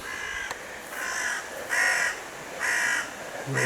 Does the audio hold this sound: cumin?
no